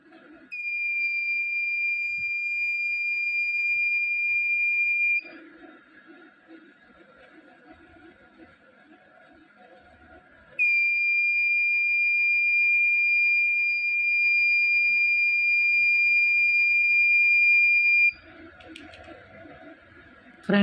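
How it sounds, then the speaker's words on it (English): A buzzer in a homemade dark detector circuit built from an LDR and a 2N3904 transistor sounds two long, steady, shrill electronic tones, each lasting several seconds, separated by a quiet gap with faint background noise. "If I block the light on LDR, then this buzzer will produce sound."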